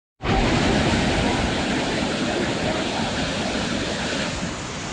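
The Shuzheng waterfall in Jiuzhaigou, China, rushes in a steady, loud broadband roar of falling water that begins abruptly and holds constant throughout, with no voices.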